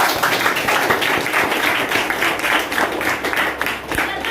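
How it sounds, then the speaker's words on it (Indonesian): Audience clapping at a motivational talk, a fairly even wash of applause from a crowd that carries on for several seconds at moderate loudness. "Kasih aplaus dulu lah."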